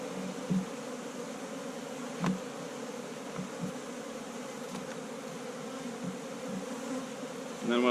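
A close, continuous drone of honey bees swarms around an open hive during reassembly, with a few faint knocks and bumps of frames breaking through the steady buzz.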